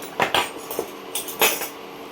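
Dry spiral pasta poured into a pot of boiling salted water with oil, a few quick close clinks and rattles of hard pieces against metal in short clusters.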